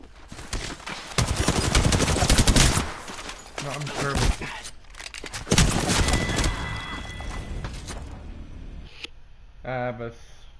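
Heavy gunfire and booming shots from Apex Legends fill the opening seconds, loud and dense, with further shooting and game effects trailing off while a voice talks over the mix.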